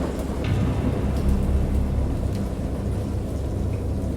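Heavy rain and low rumbling thunder from a storm scene in the VR game Dagon, a dense steady downpour with deep rolls underneath, continuous and fairly loud.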